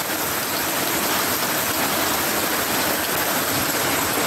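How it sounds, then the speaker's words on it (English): Rainwater pours over the rim of a full drum during a downpour with thunder about, a dense steady rushing and splashing that fills the clip without pause. "Water running all about."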